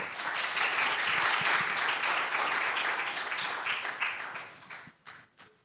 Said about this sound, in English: So let's do a round of applause for her.